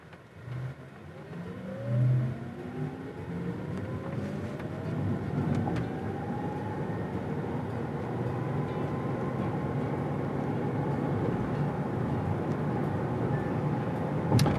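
A 2021 Porsche Taycan Turbo electric car accelerates from a stop, with a rising electric-motor whine that climbs steadily in pitch over a broad road and tyre roar. The sound is close and continuous, with no talking.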